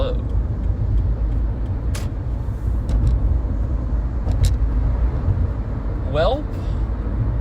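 A car drives on the road with a steady, loud low rumble of engine and tyres, a few faint clicks and a brief squeak near the end.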